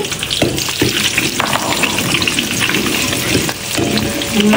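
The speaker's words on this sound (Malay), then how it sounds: "Dia nak tumis bawang yang kita dah belah ni." Sliced onions sauté in a hot pan for a chicken and pineapple pajeri, giving a steady loud sizzle broken by scraping stir strokes, with no talk.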